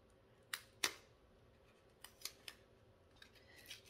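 Scissors cut open an unboxing package with a few quiet, crisp snips: two close together, then a small cluster of lighter cuts and faint rustles in an otherwise hushed room.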